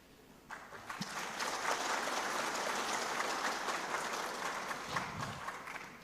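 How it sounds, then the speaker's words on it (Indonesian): An audience applauds steadily for several seconds, a dense wash of clapping that swells in and tapers off, with no talk over it. "Ini tepuk tangan terus"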